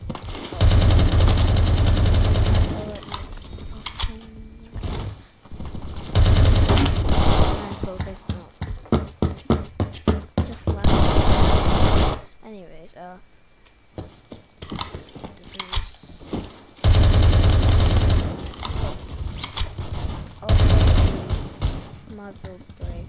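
Rapid automatic SCAR-L rifle fire in the Roblox shooter Phantom Forces, fitted with a muzzle brake, angled grip and laser, heard as loud repeated bursts and strings of single shots separated by short pauses.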